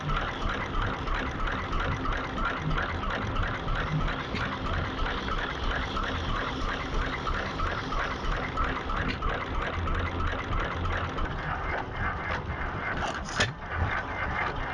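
A vintage 5 horsepower stationary engine, built in 1922 in Lincoln, runs close by at a steam rally, chugging with a steady, even rhythmic thump throughout.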